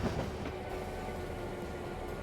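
A train rolls along rails in the Trainz railway simulation game, a steady rumbling hum of wheels and wagons with no voices.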